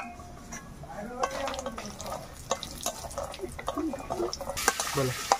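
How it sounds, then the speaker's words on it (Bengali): Home-made lentil dumplings fry in the oil left from cooking fish in a wok, giving a low crackling sizzle with scattered utensil clicks and scrapes, close by and fairly quiet. "বাড়ির বানানো বড়ি সেই তেলেই ভেজে নেব একটু লাল লাল করে।"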